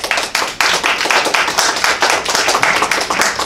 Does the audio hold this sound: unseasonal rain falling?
no